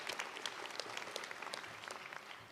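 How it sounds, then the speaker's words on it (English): Audience applause at a university fall commencement ceremony: steady, dense clapping from a large crowd, sustained throughout at moderate distance with no talking. "How about another round of applause for Nazareth."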